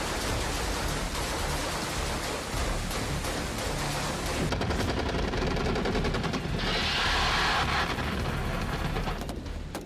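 Gunfire from Ukrainian commandos in a night firefight with Russian forces, heard as a dense, loud continuous crackle of rapid shots and bursts blending into a roaring wash, with no speech.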